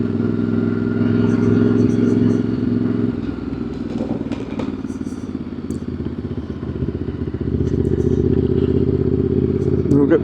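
A vintage Japanese motorcycle engine rumbles steadily, dropping to a softer idle midway as the bike slows to park, then swelling again, with light clatter and distant ticks around it at a club meeting.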